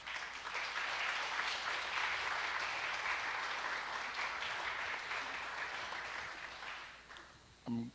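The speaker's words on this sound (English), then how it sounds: "And a round of applause for teachers." Holiday party crowd applauding teachers, steady dense clapping and some cheers for about seven seconds, fading near the end before a brief loud knock.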